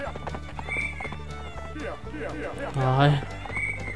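A horse in the video game Survivalcraft 2 clip-clops with steady hoofbeats and gives a short neigh near the end, close and clear, while someone talks over it.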